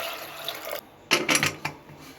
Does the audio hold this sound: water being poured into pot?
yes